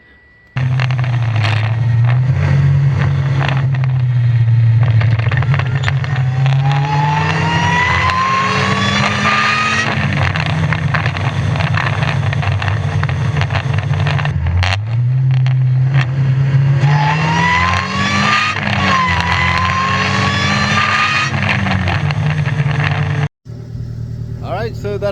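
A supercharged Mazda Miata, freshly tuned, drives along with its engine droning steadily and rising in pitch through the gears, with brief drops between shifts, loud and close, cutting off near the end.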